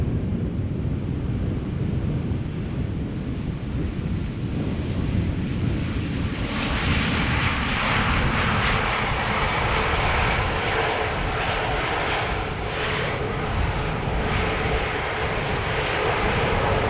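An Airbus A320neo at Schiphol Airport roars with loud, broad jet engine noise that builds and brightens midway as the aircraft passes close, and wind buffets the microphone.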